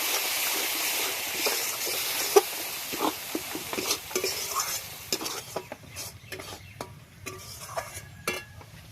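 A spice paste with onion, ginger and garlic frying in a pan for egg malai curry, with a steady loud sizzle followed by stirring scrapes and clinks as the hiss dies down.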